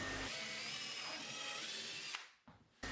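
A power drill bores holes through a cabinet panel for a handle, guided by a jig made from offcut wood, whirring loudly and steadily for about two seconds before winding down, with a brief final burst.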